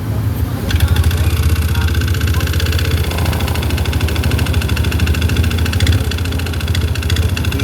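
A Yamaha NMAX v2 scooter engine runs steadily at close range with a noisy, rattling clatter, holding a constant idle-like drone throughout.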